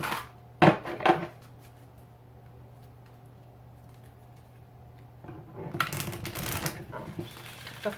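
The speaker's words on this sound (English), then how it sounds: "See if it wants to shuffle. This deck doesn't always like to shuffle." A deck of tarot cards is shuffled by hand in two bursts of quick riffling and flapping, a brief one early and a longer one later, close and moderately quiet between soft pauses.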